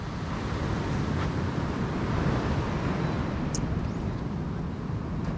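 Strong ocean waves on a beach in Antique, Philippines, a steady loud roar of surf with wind buffeting the microphone throughout.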